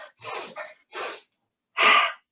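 Forceful yoga exhalations, three or four sharp breathy bursts separated by silence, close and fairly loud, the last one the strongest, with no speech.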